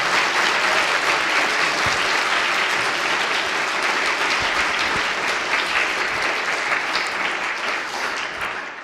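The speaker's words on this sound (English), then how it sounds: "one more big round of applause for both of our presenters" A debate audience in a hall gives the presenters a big round of applause: dense, steady clapping from a crowd for about nine seconds, tapering slightly at the end.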